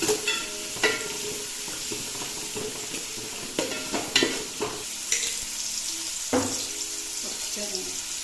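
Sliced onion frying in a pan for Palakkad-style chicken biryani, a steady close sizzle with intermittent clinks and scraping of a utensil against the pan, no speech over it.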